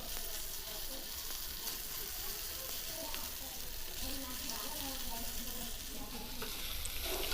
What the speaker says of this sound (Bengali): এইভাবে আমি সবকটা চিকেনকে ভেজে নিচ্ছি।